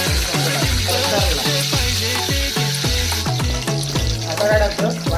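Garlic and curry leaves crackle and sizzle loudly in hot oil for a Konkani bangda (mackerel) fish curry, a continuous frying hiss with rhythmic stirring or scraping strokes repeating throughout, no talk.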